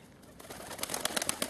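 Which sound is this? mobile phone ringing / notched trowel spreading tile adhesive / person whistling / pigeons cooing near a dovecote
pigeons cooing near a dovecote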